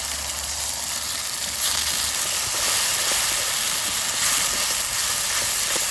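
Water added to ground spice paste and tomato in a hot pan in a village kitchen, giving a loud, steady sizzling hiss that swells briefly partway through, with no talking.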